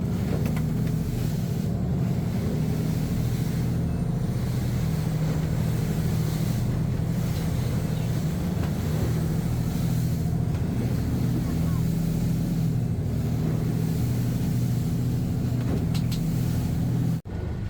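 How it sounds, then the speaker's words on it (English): A constant low motor drone runs throughout, like a boat engine on a river in Bangkok, with a voice speaking over it as another boat passes. "And we just passed another boat."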